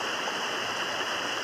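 A river flows with a steady, even rush of water, moderately loud and unbroken, with no voices present.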